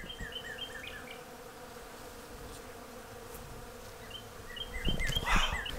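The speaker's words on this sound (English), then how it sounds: "Can you hear the bees? The honeybees?" Steady droning buzz of many honeybees in a tree outdoors, continuous and moderately close, with a brief louder rustle near the end.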